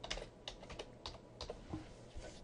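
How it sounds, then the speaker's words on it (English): Someone types a search term on a computer keyboard, a steady run of faint, close key clicks in an irregular rhythm with no talking. "So the first line I'm going to type in leadership and hit search."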